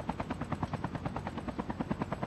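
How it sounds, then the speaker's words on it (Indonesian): A helicopter in the battle royale mode of the mobile shooter Call of Duty Mobile, its rotor chopping in a steady rapid pulse, faint and distant, with no talk. "Kadang-kadang kat atas ni ada helikopter, tu nampak tu."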